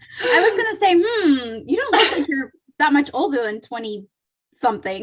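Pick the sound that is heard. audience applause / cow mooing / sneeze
sneeze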